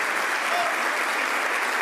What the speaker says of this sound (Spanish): ¡Aplausos, aplausos, aplausos!